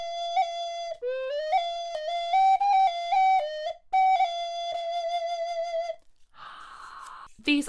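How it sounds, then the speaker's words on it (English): A 3D printed telescopic flute with six finger holes like an Irish whistle plays a sequence of clear, sustained notes with quick pitch changes, then a brief breathy sound at the end. "They are telescopic flutes, 3D printed, beautiful colours."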